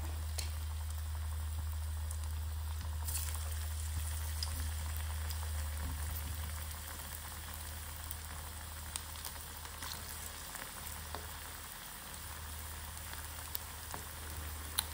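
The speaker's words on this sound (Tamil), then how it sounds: "இதே மாதிரி எல்லா போண்டாவையும் பொரிச்சு எடுத்துடலாம்." Keerai bonda frying in hot oil, a steady bubbling sizzle with scattered small pops, continuous and close throughout with a low hum underneath.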